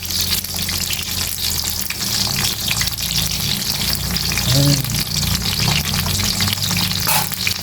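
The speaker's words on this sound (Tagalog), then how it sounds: "Luto muna tayo guys ng pritong talong" Eggplant frying steadily in a pan of hot oil, with a continuous loud sizzle and crackle that holds through the whole stretch, and occasional faint clinks and stirring noises underneath.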